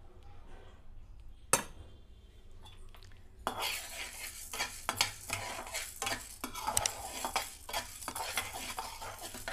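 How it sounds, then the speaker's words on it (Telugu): Urad dal being stirred and fried in a pan for turkey berry chutney, a metal spoon scraping and clinking against the pan with a light sizzle, quiet at first and then steady and close after a few seconds. "బాగా ఎర్రగా వేయించుకోవాలండి"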